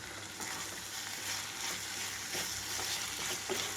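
Brinjal with chilli powder added, cooking in a pan, a soft continuous sizzle with faint stirring and no speech.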